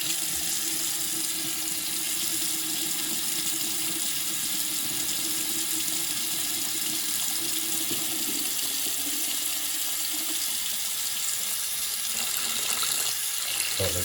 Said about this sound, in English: I'm gonna run a bunch of hot water and let it flush out